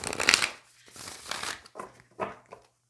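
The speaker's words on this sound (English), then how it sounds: "And now I'll shuffle more" A tarot card deck is shuffled by hand in a quiet room, a few soft papery riffling and sliding bursts separated by short pauses, close and faint.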